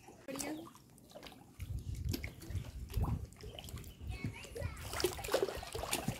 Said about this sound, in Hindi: ये पानी की आवाज़ सुन रहे हैं?